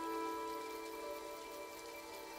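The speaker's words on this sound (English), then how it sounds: "It's raining in Dreamlight" Rain falling in the Disney Dreamlight Valley video game, a steady, even hiss of drops under a held musical tone, with no voices.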